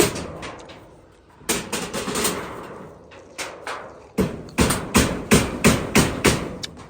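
Hammering: a few scattered knocks, then a quickening run of sharp, solid blows, roughly a dozen strikes landing close by in an uneven rhythm.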